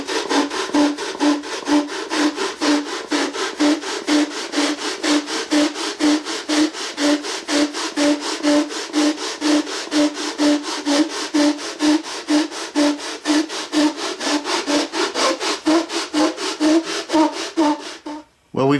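Wooden back of a handmade ukulele being sanded flat, a close, steady rhythmic rasping of quick back-and-forth strokes that runs without a break, stopping right at the end.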